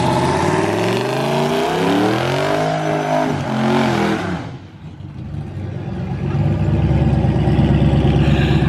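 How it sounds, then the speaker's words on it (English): A car with no catalytic converter does a burnout, its engine revving hard and roaring loud and close, dipping briefly before surging back into a sustained, raspy howl. "It's a burnout."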